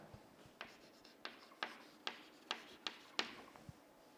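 Chalk or pen strokes writing an equation by hand during a lecture on long-term deflection: a steady series of about nine short, crisp taps and scratches, evenly spaced, close and fairly quiet, with no talk over them.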